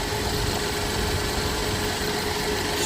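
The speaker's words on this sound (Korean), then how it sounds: "엔진 사운드 한번 들어보시기 바랍니다" A steady car engine with about 120,000 km idles continuously at close range, a low even rumble with a faint constant hum and no voices.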